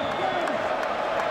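Dense, steady roar of a large stadium crowd cheering at a 2008 college football game between Michigan State and Cal, a continuous wash of many voices with no individual shouts standing out.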